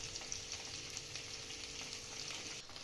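Carrots and capsicum sizzle steadily in a pan while being stirred for a cabbage Manchurian, a continuous close frying hiss with faint scraping, no voices.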